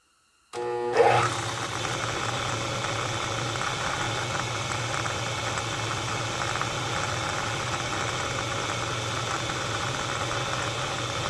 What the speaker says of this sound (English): So let's kick the mill on